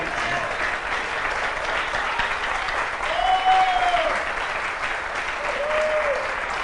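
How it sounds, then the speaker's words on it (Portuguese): A church congregation at an Assembly of God Bible conference applauds, a steady moderate wash of clapping with faint voices and a sustained tone rising briefly over it. "Quem pode aplaudir, aplauda o Senhor Jesus."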